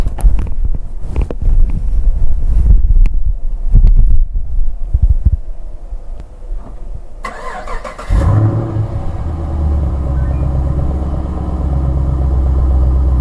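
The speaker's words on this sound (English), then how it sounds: "So let's see if I can start up the car." A car engine, started remotely, cranks briefly, then catches and settles into a steady, close idle hum.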